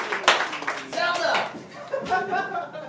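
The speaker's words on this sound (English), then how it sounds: "Give him a round of applause" Scattered clapping from a small crowd at a musicians' jam in a pub, mixed with cheers and chatter, lively and close.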